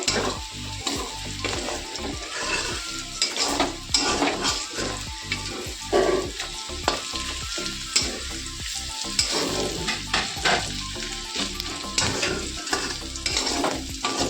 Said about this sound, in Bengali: মাংসগুলোকে ভাজা হয়ে গেছে এবার হলো পেঁয়াজটাও ভাজা হয়ে গেছে